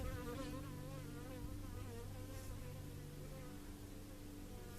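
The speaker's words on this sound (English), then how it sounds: "And even the bee doesn't distract me." A bee buzzes close by, a steady faint droning hum that wavers slightly in pitch and continues without a break, with no voices.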